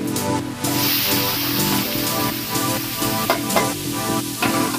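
Curry leaves and onion paste sizzle steadily in a pan while a chicken curry is being cooked, a continuous close frying hiss with occasional stirring scrapes and no talking.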